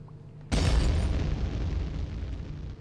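A bomb detonates in the pixel-style video game Minit: one sudden loud boom after a brief quiet moment, trailing into a long rumbling decay.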